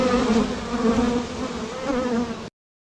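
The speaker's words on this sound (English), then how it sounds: "It's a bee." A bee buzzes steadily and loudly for about two and a half seconds, a close, continuous drone with a slight waver, then cuts off abruptly into silence.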